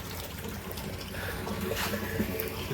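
A submersible pump fills a water tank and drum, giving a steady splashing, trickling pour close by with faint background sounds.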